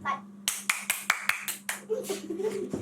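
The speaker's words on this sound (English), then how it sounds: "Quite a loud clap." Hands clap loudly and close by, about eight times in a quick irregular burst, to mark the start of a recording. A low steady hum runs underneath, and a voice speaks near the end.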